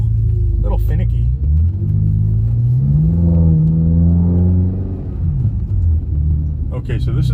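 A 2010 BMW X5 M with a power-loss problem runs close by, a steady rumbling idle that swells into a rising rev and then settles back down.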